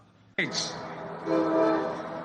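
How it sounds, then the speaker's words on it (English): A commuter train passes at a campaign rally in Traverse City, Michigan, its horn blaring suddenly and loudly after a quiet moment, then sustaining as a steady tonal blast over rumbling rail noise and crowd murmur. "And here comes the train"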